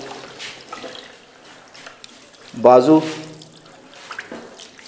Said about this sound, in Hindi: और उसके बाद ये बाईं साइड पर हम पानी डालते हैं।